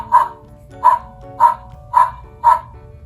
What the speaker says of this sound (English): Dogs make the sound woof woof.